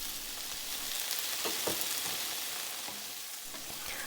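Tomato wedges fry with garlic in a little oil in a pan, a steady bright sizzle and crackle with occasional soft stirring knocks, close and continuous.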